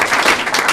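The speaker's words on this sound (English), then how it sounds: "I'd like to give her a round of applause" Round of applause from attendees at a county Board of Supervisors meeting, a short burst of dense, close clapping heard alone.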